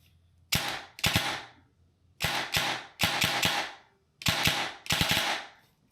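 An Arcturus PP19 airsoft replica test fires in short bursts, sharp rapid clatters repeated about six times with brief pauses between, loud and close.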